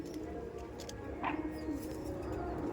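A female pigeon coos once amid steady background noise in a home pigeon loft, a short soft call standing briefly above the constant hum.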